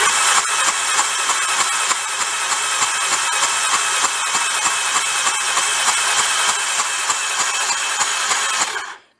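A Honda 4x4 ATV engine, the brand's first four-wheel-drive model, turns over slowly without revving, giving a steady, dense mechanical whir with fine rapid ticking that holds evenly and close before cutting off at the end.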